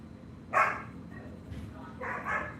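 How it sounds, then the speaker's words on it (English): A dog barks at a person, with two short, sharp barks about a second and a half apart, at moderate loudness over a steady background hum. "There's a dog screaming at my wife."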